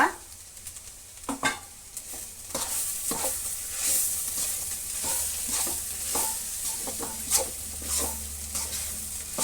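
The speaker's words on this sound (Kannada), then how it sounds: "ಹಸಿ ವಾಸನೆ ಹೋಗೋ ತನಕ ನಾವು ಸ್ವಲ್ಪ ಹೊತ್ತು ಫ್ರೈ ಮಾಡಬೇಕಾಗುತ್ತೆ" Coarsely ground masala fries in a pan for bottle gourd sambar, a soft continuous sizzle broken by repeated stirring scrapes and occasional clinks of the spoon against the pan, close and alone.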